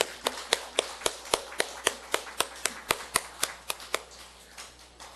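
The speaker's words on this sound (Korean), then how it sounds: "우리 하나님께 영광의 박수 같이 올려드리겠습니다." A church congregation gives a round of applause for God with about twenty evenly spaced, crisp claps in a steady rhythm, fairly soft and heard in a quiet hall.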